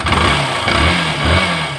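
A repaired engine, fixed after three broken magneto bolts, runs steadily close by with a low, even hum that lifts slightly in revs, loud and alone.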